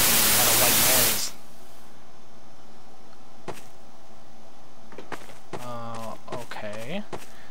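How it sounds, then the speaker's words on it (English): A loud hiss of white-noise static fills the first second in The Stanley Parable, then cuts off sharply, leaving faint room tone, brief clicks and a voice talking. "What a white noise."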